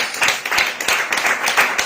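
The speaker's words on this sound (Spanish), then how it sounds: "El aplauso al Señor." A church congregation claps together in a dense, steady burst of applause, close and loud for a couple of seconds.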